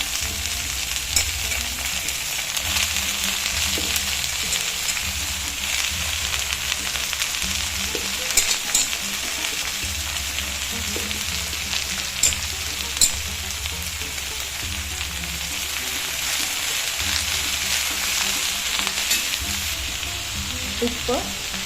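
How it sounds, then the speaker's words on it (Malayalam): Finely chopped spinach fries in a hot pan with a dense, steady sizzle that carries on throughout, with occasional light stirring clicks on top. "ചെറുതായിട്ട് മുറിച്ച് വെച്ചിരിക്കുന്ന ചീര ചേർത്ത് കൊടുക്കാം"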